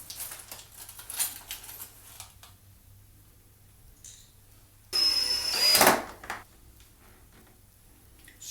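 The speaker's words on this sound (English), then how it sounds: "So I'll fix the Sash Jammer to the window now." A screw is driven to fix a sash jammer onto a window, heard as a short burst of power-tool whirring near the middle, with light clicks and handling taps before and after in a quiet room.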